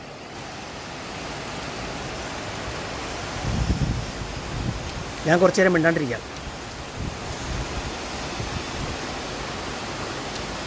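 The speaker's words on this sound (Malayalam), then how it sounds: "മഴയുടെ ശബ്ദം മാത്രമേ ഉള്ളൂ" A constant wash of rain hisses in the background while a person speaks briefly over it.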